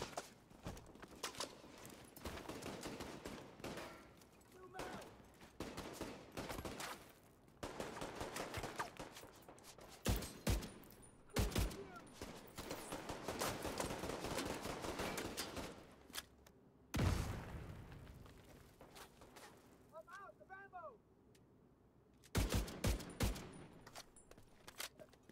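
Bursts of gunfire from the video game The Division 2, with repeated volleys spread through the clip, broken by pauses, footstep-like sounds and a few faint background tones.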